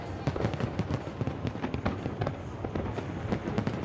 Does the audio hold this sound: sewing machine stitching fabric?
no